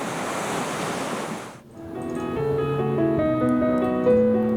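Ocean waves breaking along the basalt coast of Jeju: a loud, broad wash of surf for the first second and a half, then a steady roll of sea with no voices.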